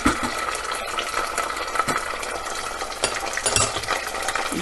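Ginger garlic paste stirred in a frying pan with a utensil, giving repeated scraping strokes over a light sizzle, close and continuous without speech.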